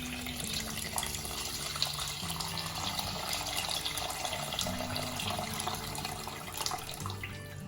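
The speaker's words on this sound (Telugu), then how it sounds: "సో నేను నీళ్ళు పోసేస్తున్నా." A steady stream of water, nearly two litres, runs into a pot of mutton paya goat leg soup. The close, continuous splashing pour lasts throughout with no talk.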